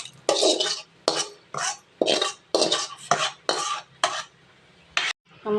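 Brinjal kara kuzhambu, a tangy Tamil eggplant curry, being ladled into another vessel: a series of about ten close scraping and clinking scoops of a spoon against a metal pot, separated by short pauses, with no talk.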